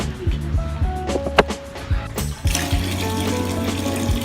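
Tap water runs steadily into a tub or basin while two puppies are bathed, with splashes and scattered knocks throughout, close by and fairly loud.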